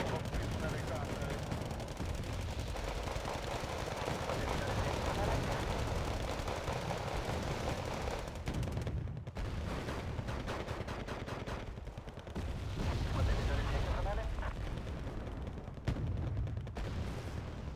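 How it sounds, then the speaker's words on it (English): Machine-gun fire in a video game battle, dense and continuous, with bursts rattling on steadily throughout and brief heavier booms mixed in, while a voice talks over the gunfire. "suddenly the amount of like MG fires and all that"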